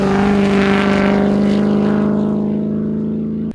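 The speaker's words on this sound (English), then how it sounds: "the beautiful sounding V8 engine rumbling through the stages" Land Rover Tomcat V8 rally car at the KCB Safari Rally, a steady loud engine drone with strong low harmonics, holding for several seconds and easing slightly before a brief knock at the end.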